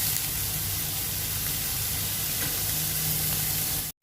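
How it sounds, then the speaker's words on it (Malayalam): Onions sizzle steadily in a hot pan, a dense, even hiss that fills the whole stretch close up without pause, then cuts off abruptly at the end; nobody speaks. "ഉപ്പ് ഉള്ളിയിൽ പിടിക്കുകയും ചെയ്യും, നല്ലതായിട്ട് മൊരിഞ്ഞ് കിട്ടുകയും ചെയ്യും."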